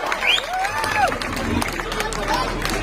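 Crowd applause and cheering at a public rally for leader Asif Sheikh, a dense steady wash of clapping mixed with a babble of voices and a few whistles.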